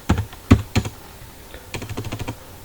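Keys clatter on a computer keyboard in short bursts: a few distinct presses, a pause, then a quicker run of typing, close and crisp.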